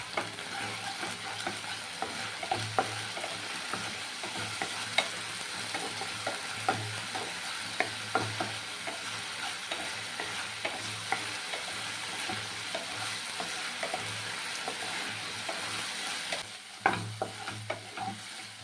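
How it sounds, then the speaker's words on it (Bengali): Masala with turmeric and salt being cooked down in a pan for a fish head and cabbage dish crackles softly and steadily, with repeated light spatula scrapes and clicks, fairly quiet and without speech. "নুন দিয়ে এইবারে পুরোটা বেশ ভালোভাবে কষাতে হবে"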